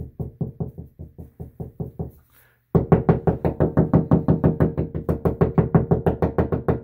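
Rapid knuckle knocks on a hollow drywall bedroom wall, checking for studs: a short run then a brief pause, followed by a longer, louder stretch of steady knocking, close by.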